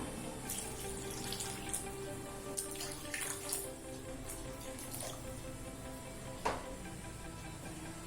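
Water poured into a pan while making pineapple rava kesari, a soft continuous splashing and trickling at low level with a few brighter splashes and drips along the way.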